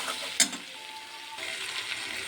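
Spices frying with chicken in a pan at home, a soft steady sizzle with a sharp clatter near the start, as if a utensil strikes the pan, and no one talking.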